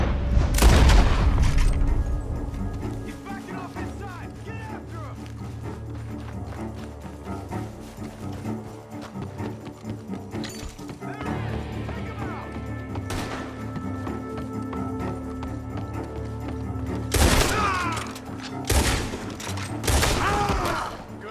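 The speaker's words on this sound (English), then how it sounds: "The gunshots are coming from that barn!" In the video game Red Dead Redemption 2, bursts of gunfire and booming blasts ring out at intervals over a droning background, with heavy volleys at the start and near the end.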